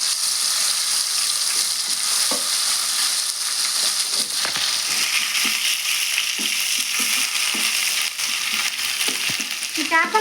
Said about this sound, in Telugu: దీంట్లో కొద్దిగా అల్లం పేస్ట్ వేస్తున్నానండి.